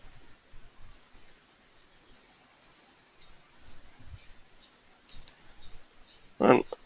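Computer mouse clicks on a desktop during software configuration, a few small clicks scattered through the clip with one sharper click near the end, faint under quiet room tone.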